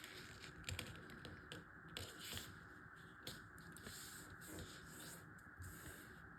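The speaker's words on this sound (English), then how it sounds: "Let's start by folding a piece of A6 paper into half" A sheet of A6 paper is folded in half and creased, making faint, close rubbing and crinkling sounds with scattered soft taps and scrapes, and no voices.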